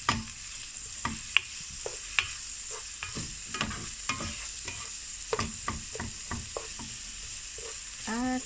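Garlic and onion sautéing in a hot pan, a steady sizzle broken by repeated scraping and stirring clatters at an irregular pace, close and fairly quiet with no talk.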